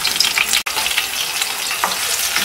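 Garlic and green chilies frying in hot oil give a loud, steady, close hiss of sizzling that runs without pause, broken once by a very brief dropout.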